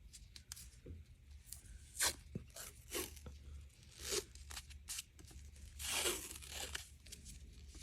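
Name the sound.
tearing 1.5 inch white athletic tape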